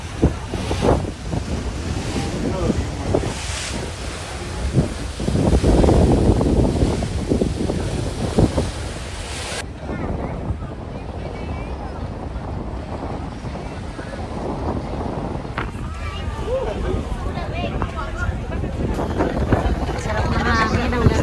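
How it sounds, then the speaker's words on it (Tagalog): Steady night wind rushing and buffeting the mic at a Puerto Galera beach, with waves or water churning underneath and faint voices now and then; loud and continuous throughout. "Sarap ng hangin ang gabi."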